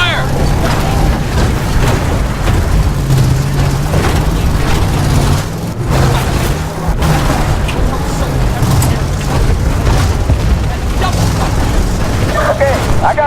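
Gunfire and explosions from Battlefield Bad Company 2 crackle and thud continuously with sharp bursts over a rumbling background, loud and dense throughout, with voices faintly mixed in.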